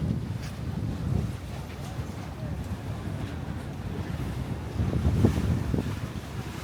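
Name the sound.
ocean waves splashing in and out of a rock tunnel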